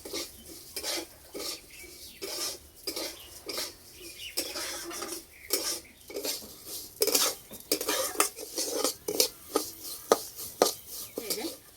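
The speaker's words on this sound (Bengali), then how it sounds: "এই রান্নার জন্য সেমাইটা ভালো করে ভেজে নিতে হবে।" Vermicelli (semai) frying in hot oil in a kadai, with a utensil repeatedly scraping and clinking against the pan in uneven strokes, close and fairly loud over a faint sizzle.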